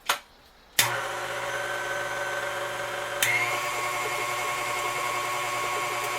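A KitchenAid stand mixer starts up after a short click, then runs as a steady, close motor whine with a hum beneath. A brief jolt about halfway through may be a change in speed, and then the even drone continues alone.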